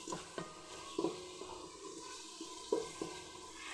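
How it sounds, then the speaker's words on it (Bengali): Prawns being stir-fried in spice masala in a pan give a soft, quiet sizzle broken by a few spatula taps and scrapes against the pan. "চিংড়ি মাছগুলোকে আমি মশলার মধ্যে ভালোভাবে কষিয়ে নেব।"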